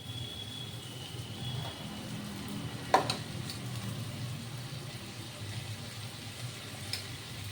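A low steady sizzle of frying in a pan as salt and turmeric are stirred in for water spinach with potato, with one sharp scrape or knock of the spoon partway through and a faint tap near the end.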